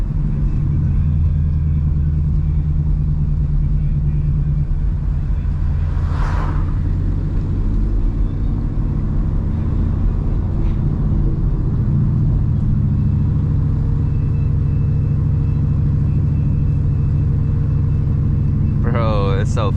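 A Ford Mustang GT cruising at sunset around a lake, its engine a steady low rumble throughout with little change in pitch and a faint brief whir near the end.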